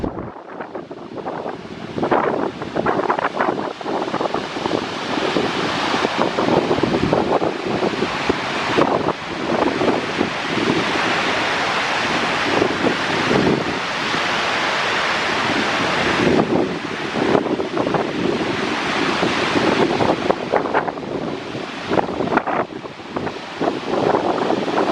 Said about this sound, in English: So here is the waterfall that we saw,